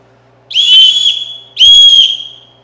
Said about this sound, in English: if you got two whistles and you blow at the same time